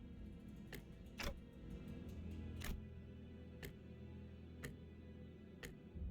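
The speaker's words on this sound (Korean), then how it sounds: "째깍대는 소리가 빨라지는 걸." Sharp mechanical ticks sound at a steady, sparse pace over a quiet low hum in a video game, each click distinct and isolated with no one talking.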